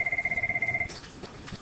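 A telephone rings indoors in a classroom-style setting, a rapid electronic trill repeating in quick pulses for under a second before cutting off, leaving a faint room hush.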